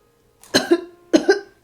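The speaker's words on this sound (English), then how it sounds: "I can't stop coughing." A person coughs twice in quick succession, each a sharp close burst with a short rasping tail, then quiet.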